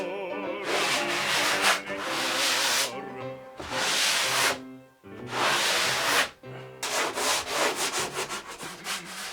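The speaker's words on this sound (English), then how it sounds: "So I'm just going to lightly sand this perimeter." Drywall patch perimeter lightly sanded by hand where the wall texture meets the infill, steady rasping strokes in long bursts separated by short pauses, close and fairly loud.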